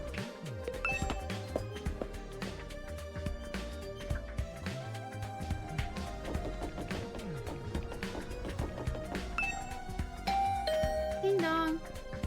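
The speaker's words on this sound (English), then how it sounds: "I rang the doorbell to Tsubasa's room" A two-tone electronic doorbell chime rings at Tsubasa's room door in the video game Last Defense Academy, set over game background music with bright chiming notes toward the end.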